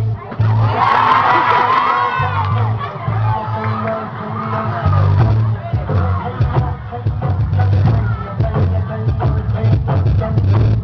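Crowd of children and adults cheering and shouting at a junior high scout drama performance, a loud sustained hubbub with whoops and scattered claps, rising and falling throughout.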